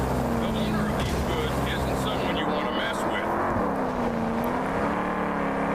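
Fast car engine roaring steadily while driving in GTA Vice City, a loud continuous drone with shifting pitch throughout, under a man's speech.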